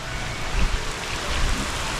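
Heavy rain and strong wind, blowing about 35 miles an hour, sweep over a canal in Key Largo, giving a loud, steady broadband roar with gusty swells and no voices.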